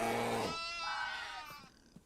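A single sheep in a video game gives one short, close bleat that tails off quickly, with no talk over it.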